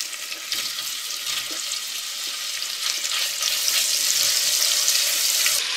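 Lean bacon sizzles in a pan over rendered fat and crisp cracklings, a steady broadband hiss that swells slightly louder toward the end, with no talking.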